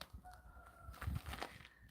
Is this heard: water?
no